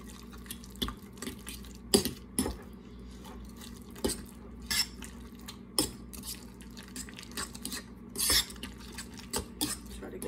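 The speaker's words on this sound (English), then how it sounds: "Now we're gonna mix this all together." Cream cheese, bacon and filling mixed in a bowl for stuffed jalapeños: a spoon knocks and scrapes in uneven taps over a soft background hum, with no one talking.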